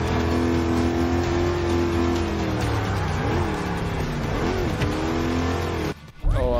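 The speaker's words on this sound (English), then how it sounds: "Now I'm just doing some Tokyo Drift for some fun" A car drifts in a sim racing game, its engine revving loud and close with wavering pitch as the tires slide, then cutting out abruptly near the end before a short burst returns.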